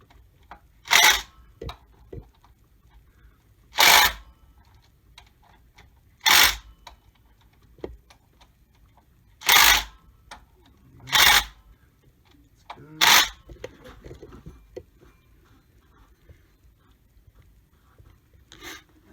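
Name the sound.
tightening pulley bolts on Ford engine water pump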